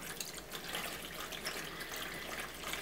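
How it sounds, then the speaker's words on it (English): Water pours into a container holding a potato, a steady soft splashing and trickling that continues evenly throughout at low to moderate level. "add the water until the 2 centimeter mark"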